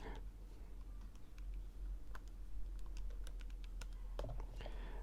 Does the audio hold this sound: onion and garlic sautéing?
no